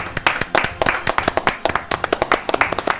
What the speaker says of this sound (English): applause for Jayden